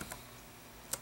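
A computer keyboard gives two quick, faint clicks about a second apart in an otherwise quiet room, with no talking.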